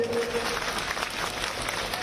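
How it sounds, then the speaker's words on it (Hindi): Crowd applauding at an outdoor political rally in Bairad, Shivpuri, a steady wash of clapping that is fairly distant and continuous throughout. "ऐसे हमारे नेता आदरणीय ज्योतिरादित्य सिंधिया जी, तालियां बजा के उनका स्वागत कीजिए"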